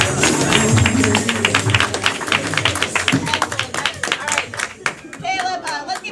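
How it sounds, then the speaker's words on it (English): An audience at a live comedy event claps, loud uneven clapping with crowd noise and some tapping, while a host speaks over it toward the end. "Caleb, let's give Caleb another round of applause."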